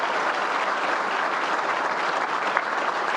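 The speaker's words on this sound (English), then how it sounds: "So let's give him a big round of applause." Lively applause from a luncheon audience for Governor Cuomo, continuous close clapping filling the room throughout with no voices on top.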